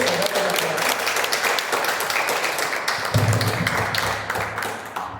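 A room full of people claps steadily, a dense patter of hands that holds for several seconds with a low murmur underneath.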